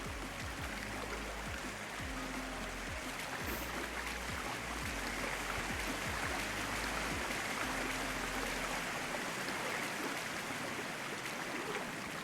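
A waterfall in the kayaking video game Whitewater VR rushes steadily as a dense wash of water noise, with faint low thumps early on and no talk.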